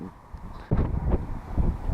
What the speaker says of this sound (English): It's absolutely howling a gale now.